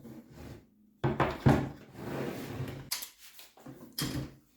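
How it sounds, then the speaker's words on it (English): Wooden pieces and a Parkside dowel jig knock and clatter as they are set and clamped. Sharp hollow thumps and clicks come close up between quieter handling noises, with no talk. "Clamp it not too hard."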